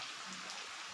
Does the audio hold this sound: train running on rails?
no